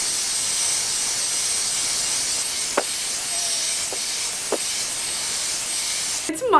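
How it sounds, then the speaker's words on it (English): Good Behavior smoothing spray mists onto hair in a steady, close, continuous hiss, with a few faint clicks along the way and a rustle at the end. "Spray in the Good Behavior smoothing spray."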